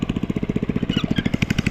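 Rapid, even thumping from a hand tractor motor working through deep rice paddy mud, loud and close, its engine beat unbroken and alone.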